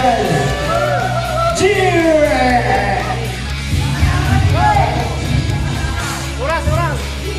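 A crowd at a barangay fiesta game in Casilagan yells, whoops and cheers loudly and continuously, many voices overlapping close by throughout.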